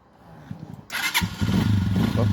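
A friend's motorcycle with damaged horn and light wiring starts on one click: a quiet moment, a brief starter crank, then the engine catches and settles into a loud, close, throbbing idle.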